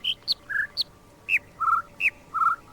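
Short synthetic bird chirps and whistled notes from a bird-noise puzzle in a video game, a series of bright, separate tweets and trills in an uneven melodic pattern, clear and close, with no talking.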